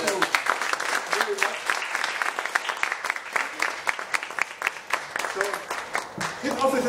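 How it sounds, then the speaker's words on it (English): A workshop audience applauds with steady, dense clapping that fills the room, with a voice speaking over the applause. "I think we could applaud them."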